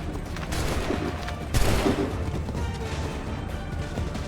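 A musket volley in Assassin's Creed 3: a loud crackling burst of massed shots rising over a constant dense battle roar, followed by lingering rumble, close and heavy.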